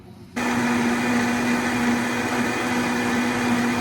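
A countertop blender whirs steadily as it purees a green spring vegetable soup, switching on abruptly and then running at a constant, loud, droning motor pitch with no voices.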